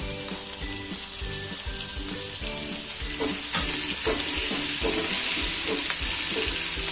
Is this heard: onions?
yes